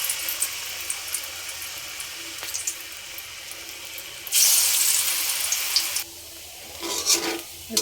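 Marinated chicken popcorn coated in gram flour drops into hot oil, giving a hissing, crackling sizzle that swells sharply in the middle and flares again near the end, close and steady, with no talking.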